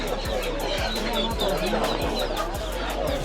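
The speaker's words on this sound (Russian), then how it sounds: "Под ногами утки." Ducks and ducklings mill about underfoot on a muddy street in Bangladesh, giving repeated short quacks and clucks close by amid busy outdoor background noise.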